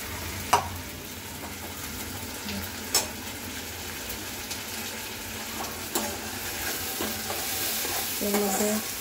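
Chopped onion frying in a pan, stirred now and then, giving a steady close sizzle with scraping clicks and short clatters as a utensil moves through it, with no voices.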